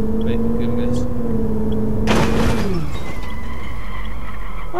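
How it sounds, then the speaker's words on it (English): Ferrari supercar engine in the PC game City Driver, a loud steady droning tone that rises then drops as the car shifts, with someone talking over it. "Oh, it even sounds like a race car."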